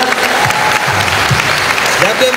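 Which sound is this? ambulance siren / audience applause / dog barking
audience applause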